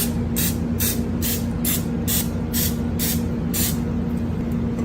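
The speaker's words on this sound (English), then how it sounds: "get a little bit of vegetable spray, spray each one." A series of short, sharp bursts of vegetable oil spray onto muffin tins, about eight in a row at a quick even rhythm, over a steady low hum.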